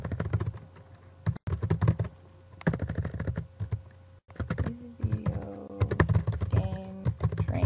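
Keys clatter on a computer keyboard in steady bursts with short pauses, typing a phrase into a letterhead document; a tonal computer sound rises near the end, and nobody speaks.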